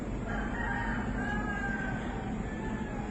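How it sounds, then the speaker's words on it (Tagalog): A rooster crows in a long drawn-out call over a dense, steady background of clucking chickens, with no one speaking. "Si Inday Sara, Daming manok, ha?"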